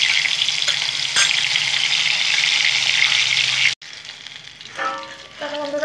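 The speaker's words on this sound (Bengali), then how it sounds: "মাছটা ভেজে নেবো।" Fish sizzling in hot oil, a loud continuous hiss and crackle that cuts off abruptly, followed by quieter clatter.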